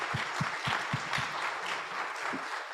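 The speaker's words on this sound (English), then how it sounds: "Big round of applause." A small congregation at a community worship gathering claps, the scattered claps rising and thinning out, faint and close.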